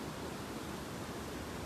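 Close, loud roaring river water by a footbridge on a valley trail, a dense continuous rush without pause or speech.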